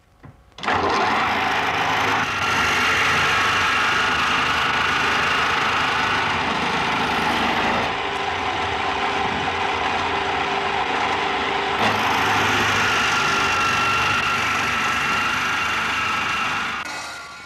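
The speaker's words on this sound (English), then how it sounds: "A jig ensures that the holes for the legs are drilled at the correct angles." A drill bores angled leg holes in a wooden spinning wheel part held in a jig, running as a steady loud whine that holds for most of the time before briefly dipping and then resuming.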